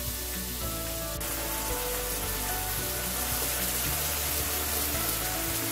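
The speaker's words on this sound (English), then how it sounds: "Now cook this on high flame till you know your beef is cooked and nicely browned on the outside." Beef strips sizzle and fry in a pan over high flame for a stir-fry, a loud continuous crackling hiss with a steady, dense texture throughout.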